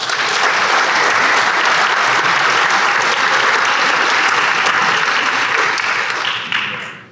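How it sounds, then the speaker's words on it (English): Loud, sustained applause from an audience honoring award recipients at a small business awards breakfast, a thick even wash of many hands clapping that runs unbroken before cutting off. "give them a quick round of applause"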